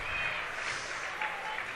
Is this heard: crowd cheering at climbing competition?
yes